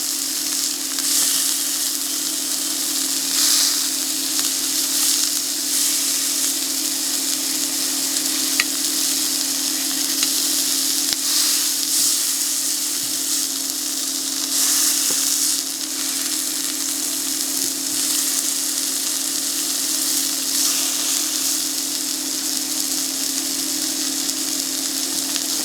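Ribeye steak searing in a hot pan, a loud, steady close sizzle and crackle of fat running unbroken throughout with no talk.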